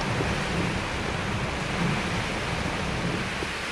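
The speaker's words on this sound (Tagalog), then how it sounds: "Buong umagang malakas ang ulan at hangin sa Tuguegarao City" Loud, continuous roar of typhoon rain driven by gusting wind in Tuguegarao City, Philippines, a thick, unbroken wash of noise with low rumbling undertones.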